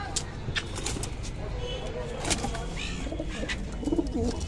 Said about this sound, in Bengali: এই দেখুন ডিমে পায়রা বসে আছে